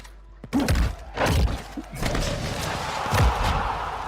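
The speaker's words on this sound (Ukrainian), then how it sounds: "Якась галіма петарда." Several dull firecracker pops and thuds go off in the mobile shooter Call of Duty Warzone Mobile, spaced a second or so apart, with game ambience around them.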